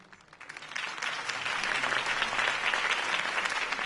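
A crowd applauds Harvey Dent's campaign speech in Batman: The Telltale Series, clapping that swells from a few hands into sustained, even applause, fairly close and alone without talk.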